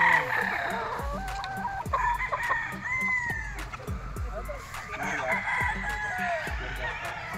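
Gamefowl roosters on a gamefarm, including a yellow-legged Boston Dome, crow repeatedly with loud overlapping calls while clucking and a voice carry on underneath.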